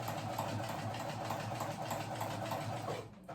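Steady, continuous whirring hum of a sewing machine running nonstop as it stitches elastic onto leggings, close and loud from start to finish before cutting off at the very end.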